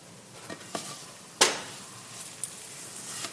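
Pita flatbread frying in an oiled pan: a soft sizzle with a sharp clatter as it is flipped, followed by lighter scrapes and taps nearby.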